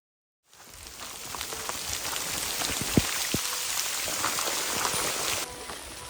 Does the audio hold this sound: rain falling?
yes